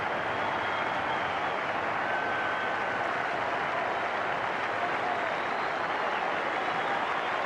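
A dense, steady roar of crowd applause fills the Melbourne Cricket Ground during a 1999 India vs Australia Test match after Brett Lee takes his first Test wicket, continuous and broad throughout with no break.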